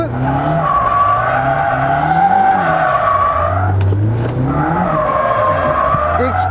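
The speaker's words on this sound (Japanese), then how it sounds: "思い切ってアクセル踏むとです、床まで踏み続けると、抜いて踏む" A car drifts during a drift driving lesson, its engine revving up and down with the throttle while the tires squeal and skid in long, loud, sustained passes.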